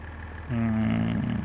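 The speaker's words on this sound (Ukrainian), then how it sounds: "Так, трактор завівся." A tractor engine in the Farming Simulator 25 video game starts up and settles into a steady low idle hum after a short quiet moment, heard alone without talk.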